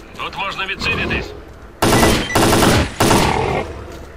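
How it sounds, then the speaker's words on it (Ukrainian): Bursts of gunfire from the video game S.T.A.L.K.E.R.: Clear Sky, three loud dense volleys in quick succession after a quieter passage with voices and game sounds. "Там же хтось стріляється."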